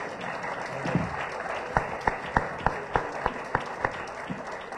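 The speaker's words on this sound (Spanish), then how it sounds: "recibamos con un aplauso a Juan José Sánchez Gálvez" Applause from an audience at a book presentation, a dense steady patter with a few sharp individual claps standing out near the end.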